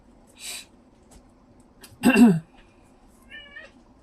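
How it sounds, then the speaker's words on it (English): A cat meows once loudly, preceded by a short faint sound, then a softer high-pitched call follows after a pause in a quiet room. "You may hear my cat or the next door dog"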